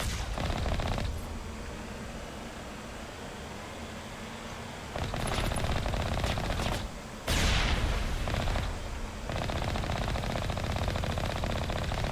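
A ballistic turret fires in the Mass Effect Legendary Edition game: loud, rapid volleys of shots in long bursts, separated by a short lull and an abrupt sharp crack, heard alone without talk.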